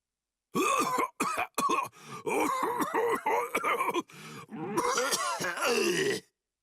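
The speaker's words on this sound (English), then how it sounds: "Hey, how long you gonna cough?" A character in the video game Bleach Rebirth of Souls coughs repeatedly in rough, groaning bursts, close and loud, breaking into a longer strained hacking fit toward the end.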